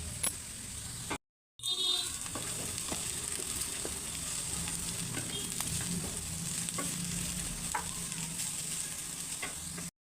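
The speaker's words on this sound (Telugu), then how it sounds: "ముల్లంగి దుంపలు, ఉల్లిపాయలు కూడా వేసి వేయించుకుందాం" Radish and onions frying in a pan for mullangi pachadi, a continuous crackling sizzle with occasional stirring scrapes, steady and close after a brief cut near the start.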